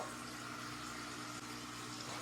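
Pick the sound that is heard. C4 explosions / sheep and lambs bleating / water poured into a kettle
water poured into a kettle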